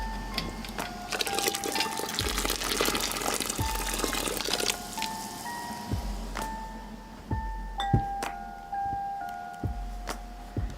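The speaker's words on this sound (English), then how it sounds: "Tip the jar over to pour out that hot water and transfer it to your towel on the countertop." Hot water pours out of a tipped canning jar in a close, steady splashing stream for the first few seconds, followed by a few light clinks and soft drips over quiet background music.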